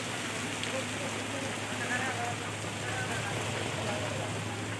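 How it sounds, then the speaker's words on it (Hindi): Steady heavy rain in Tharparkar hisses continuously, an even wash of falling water with a low hum underneath and no letup. "बारिश बहुत हो रही है यार"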